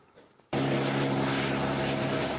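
A helicopter lifting car wrecks out of a river in the hills behind Nice bursts in abruptly after a quiet moment, a loud, steady engine and rotor drone that holds close and constant.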